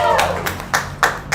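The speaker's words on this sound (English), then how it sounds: "So you should give yourselves a hand clap for that" At a political club meeting, a few scattered hand claps ring out, sharp and close, with uneven gaps between them.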